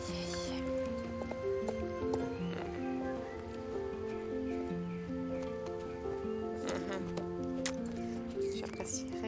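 A pony's hooves clip-clop in the video game Star Stable Online, with light, regular steps mixed into looping game music and soft clicks, while a voice speaks.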